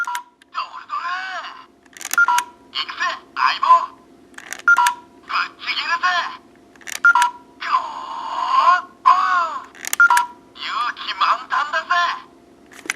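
Electronic chirps, warbling siren-like tones and short beeps burst from an Engine-Oh toy phone when its center button is pressed, loud and close in a choppy run of separate effects.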